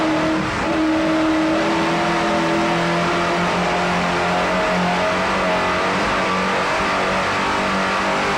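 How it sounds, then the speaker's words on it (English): 750-horsepower United Racing engines drive racing boats at speed on Lake of the Ozarks, Missouri, in 1994, a loud, continuous roar with rising and shifting engine tones that never lets up. "picking up speed as we hear those United Racing engines too. 750 horsepower power plant."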